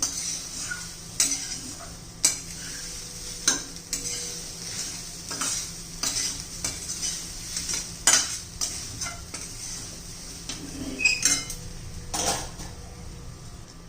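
Grated fresh coconut cooks in ghee over low heat for ladoos, with a faint, close sizzle under repeated sharp spatula scrapes and taps against the pan at an uneven pace.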